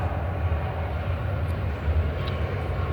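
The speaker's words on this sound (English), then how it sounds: "Here come that plane." A plane flying overhead gives a low, steady rumbling drone, moderately faint and distant, with no talk.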